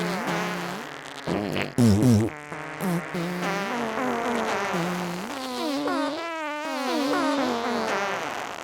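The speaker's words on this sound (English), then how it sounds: "I think these are tuned farts." Chromatic tuned fart samples from a Soundiron sample library play as a run of pitched, buzzy blasts that step through notes in a melodic sequence, fairly loud and with no talking.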